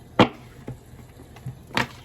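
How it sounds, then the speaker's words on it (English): Tarot cards are shuffled in a few short papery riffles and taps, with two sharper bursts at the start and end and softer flicks between, close and otherwise quiet. "one more shuffle here."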